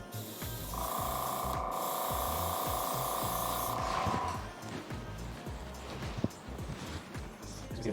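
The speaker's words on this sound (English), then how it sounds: "And you just spray it on there like that." An aerosol can of hair dye hisses in a steady spray onto a hair unit for a few seconds, then stops, leaving faint rustling and background hum.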